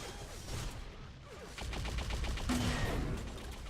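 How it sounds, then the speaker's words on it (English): Gunfire during an Unreal Tournament pre-alpha match, including a sniper rifle: a quiet run of quick, sharp shots clustered mid-clip over low game ambience, with no speech. "Nice sniper shot there."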